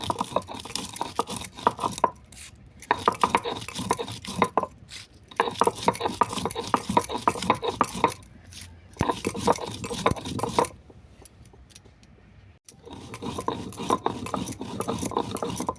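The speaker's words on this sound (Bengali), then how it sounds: "সেগুলো আমি সিলে গুঁড়ো করে নিচ্ছি।" Dry-roasted spices are crushed on a flat grinding stone, making rough rhythmic scraping and rubbing strokes in repeated bursts with short pauses between, close and fairly loud, with no voices.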